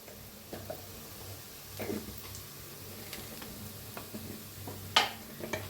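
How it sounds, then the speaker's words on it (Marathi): Grated raw mango with spices roasting in a pan, with soft scattered scrapes and taps of a stirring spoon and one sharper clink near the end over a faint, steady background. "आता ह्याला ते चांगलं भाजून घ्यायचं आहे"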